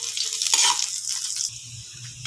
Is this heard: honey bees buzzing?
no